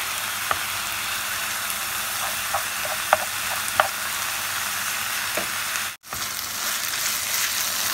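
Chicken filling frying in a pan of sauce enriched with a spoonful of tomato paste, a steady close sizzle with occasional soft stirring clicks and a brief break near the end.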